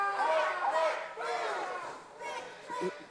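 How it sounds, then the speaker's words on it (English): Wrestling crowd at an OVW event chanting "click, click, boom" in a rhythmic, loud, roomy surge of many voices, rising and falling in waves across the arena. "Gunn leading the crowd to chant click, click, boom"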